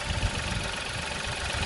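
Three-cylinder car engine idling, heard close as a steady low rumble with slight pulsing throughout and no voices.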